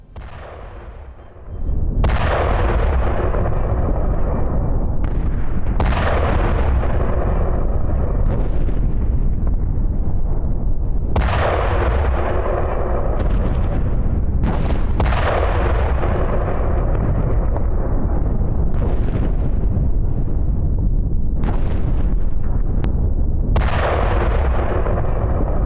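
Heavy explosions from a strike on a Hamas position, a series of roughly eight deep booming blasts spaced a few seconds apart over a continuous loud rumble, sounding distant yet powerful, no voices.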